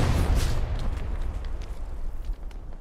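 Explosions rumble through a competitive Hell Let Loose match on Omaha Beach, with artillery falling. The sound is a dense, low, moderately quiet wash of blasts and booms, heaviest at the start, with no voices over it.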